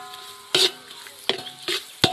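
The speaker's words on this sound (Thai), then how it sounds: "ค่อยๆคั่ว" Pork cracklings are stir-fried in a large wok for Thai phat phrik khing, with a handful of sharp scraping stirs and clinks at irregular intervals over a faint background hum.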